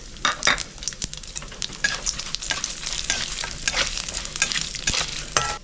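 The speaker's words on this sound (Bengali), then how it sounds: "এই ভাজা তেলে আমি কিছু ফোড়ন দিয়ে নেব।" Dry red chillies, bay leaves and black mustard seeds with radhuni crackle and sizzle in hot oil in a pan, with steady frying hiss, scattered seed pops and occasional stirring clinks, close and alone.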